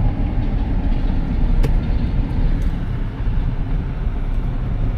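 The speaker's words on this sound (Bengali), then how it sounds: "আরে ট্রেন চলে আইছো তাই না?" A train passes along a street in Jessore Sadar, a steady broadband rumble holding throughout with a few sharp clanks over it, close and fairly loud.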